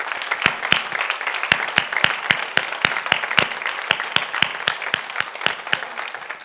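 Church congregation giving a hand clap of praise during a Sunday worship service: a steady run of sharp, separate claps at an even pace, fairly close and clear, with no talking over them.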